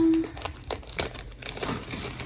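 Plastic packaging crinkling and rustling in short bursts, close by, as it is handled and pulled open.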